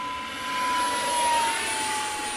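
J Perkins Aermacchi MB-339 RC model jet flying past, a steady jet-like electric whine with a high tone that swells and fades as it passes, alone without talk.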